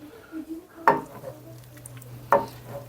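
Cooked pasta being stirred into a chorizo and halloumi sauce in a pan, with a soft wet churning and two sharper scraping clatters against the pan over a low steady hum.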